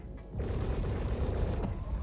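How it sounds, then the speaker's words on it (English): Rapid PDC point-defense cannon fire in a space combat video game hits the player's own ship, a dense, continuous booming rattle of shots that runs for about two seconds. "I'm being shot by my own PDCs"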